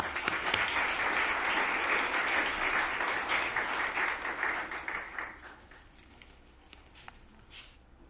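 An audience bursts into loud, sustained applause that fades out after about five seconds, leaving scattered claps and shuffling in the room.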